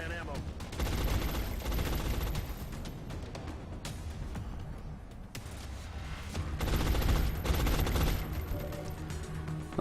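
Sniper gunfire in the strategy game XCOM: Long War, a dense burst of game combat shots and blasts with sustained loud noise, swelling again near the end, with a voice speaking underneath.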